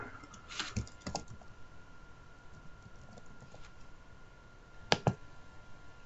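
Close, quiet typing on a computer keyboard comes in two short bursts of rapid key clicks, one near the start and one near the end, with a near-silent gap between them and no talk.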